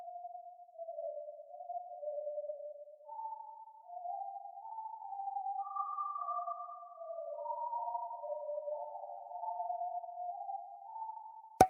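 A noise bend effect from the Expand plugin in a beat glides through a series of wavering, pitch-shifting tones, quiet and clean, sliding up and down continuously without talk.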